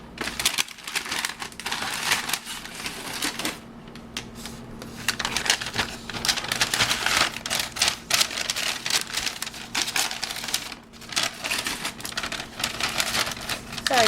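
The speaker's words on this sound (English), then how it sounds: "Sorry for the crinkling." Paper crinkling while swap goodies are packed into a decorated paper bag, a steady close rustle with dense crackles that runs throughout.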